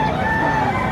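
At a Padre Garcia, Batangas fowl market, an eight-month-old Pumpkin Hatch gamecock gives a sustained crow, fairly loud and steady against a busy background.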